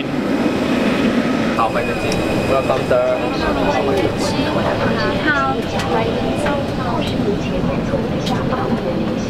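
Cabin noise inside a tiny passenger plane, a loud steady engine drone and roar filling the whole stretch, with a recorded boarding announcement and voices speaking over it.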